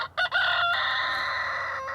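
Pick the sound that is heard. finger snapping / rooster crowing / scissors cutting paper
rooster crowing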